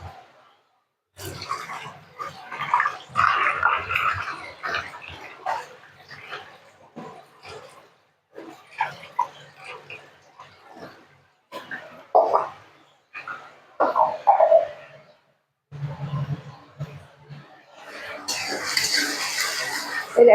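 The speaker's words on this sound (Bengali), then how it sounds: "আদা কাঁচা লঙ্কাটা দিয়ে ভালো করে নেড়ে চেড়ে নেব" Ginger and green chillies being stirred in a pan, with intermittent scraping and clinking of a spoon against metal, in short bursts separated by pauses, close and moderately loud.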